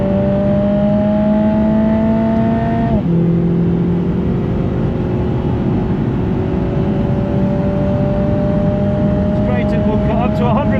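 A 360bhp Lotus Emira fitted with an AMG engine accelerates down the main straight at Goodwood, the loud engine note rising through the gears with a sharp drop at a gearshift and steady droning under a driver's talk.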